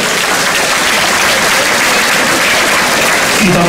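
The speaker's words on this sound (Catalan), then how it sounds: "des d'aquí un aplaudiment també a tots ells." A festa major crowd in La Granja d'Escarp applauds the penya Borrachitos, a steady, loud wash of many hands clapping close by and filling the whole moment.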